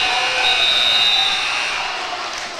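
At a high school basketball game between Mountain Crest and Hurricane, the arena buzzer sounds one sustained, bright electronic tone lasting a couple of seconds before fading slightly at the end.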